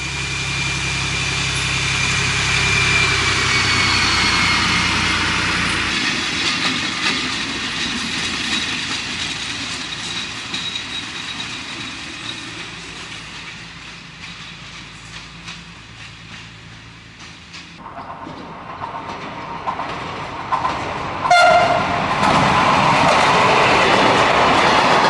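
An SNCF X4630 diesel railcar runs loudly at first with a steady engine rumble and wheel noise, fades to a quieter stretch, then rises again with clattering and a sharp metallic squeal.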